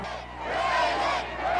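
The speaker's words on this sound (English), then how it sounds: "the people in the crowd today may have seen Ronald Reagan, the president, in person for the last time" A large outdoor crowd gathered for a visit by President Ronald Reagan in Cleveland roars and cheers in a dense, sustained wash of voices that swells and stays loud throughout.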